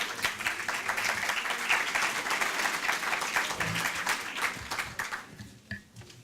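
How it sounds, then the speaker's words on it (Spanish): Sustained audience applause welcoming a speaker at a talk on continuous improvement and sustainability, dense and steady for most of the stretch, then thinning into scattered claps near the end. "Lo recibimos con un fuerte aplauso"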